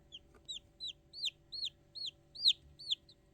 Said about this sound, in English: These are miniature chickens.